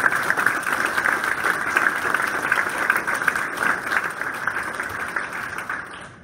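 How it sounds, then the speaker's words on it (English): Sustained applause from the audience at a Wall of Pride induction ceremony honoring a doctor, a broad wash of clapping that holds steady and then thins out toward the end. "Let's have one more round of applause for Dr."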